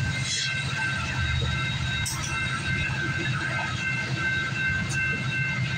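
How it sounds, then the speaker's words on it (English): CPKC manifest freight 231 with a BNSF unit passes at the Guelph Line in Campbellville, a continuous heavy rumble of rolling cars with a few sharp metallic clanks and squeals. "We got a manifest train right now."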